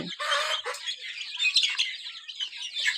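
Busy, high-pitched chirping from many chicken and quail chicks, overlapping peeps close by with no pauses.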